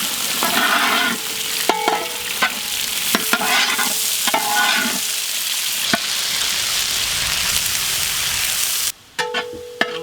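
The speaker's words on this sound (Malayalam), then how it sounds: "ഉള്ളിയൊക്കെ ഒന്ന് നല്ല ബ്രൗൺ കളറായി തട്ടല്ലേ" Onions frying in a pan for rabbit biryani, a steady sizzle with repeated scraping stirs of a spoon against the pan, close and loud, with a brief gap near the end.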